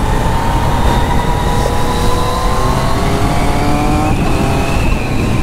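A Yamaha MT-09 motorcycle engine roars loud and close, holding high revs in a continuous sustained whine with rising harmonic tones and no pauses.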